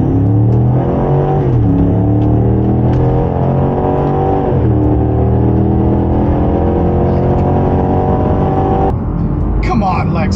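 A 2023 Range Rover, Lexus LX600 and Cadillac Escalade 600 launch together in a heavy drag race, engines roaring loud and close with rising and shifting revs, a brief change near the end.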